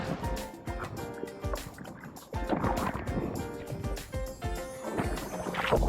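A Sea-Doo personal watercraft runs across choppy Lake Michigan, producing steady engine drone, hull slaps and water spray, with rushing wind noise throughout.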